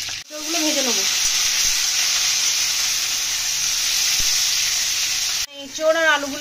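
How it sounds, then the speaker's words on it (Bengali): Young jackfruit and potato pieces fry in hot oil in a kadai with a loud, steady sizzle that cuts off abruptly near the end, where a brief voice is heard. "এঁচোড় আর আলুগুলো একটু ভালো করে ভেজে নেবো।"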